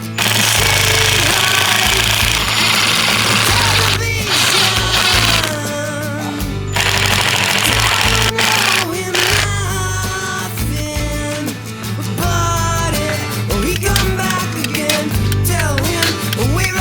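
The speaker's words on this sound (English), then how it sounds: "This is an impact driver, not a drill." An impact driver running in a garden, a loud rapid hammering rattle that continues nearly nonstop with a few brief pauses and changes in pitch.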